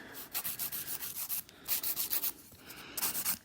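An electric nail drill files down and shortens gel nails during a coffin-to-almond reshape, with short rhythmic bursts of close, gritty sanding that rise and fall in quick succession and no talking.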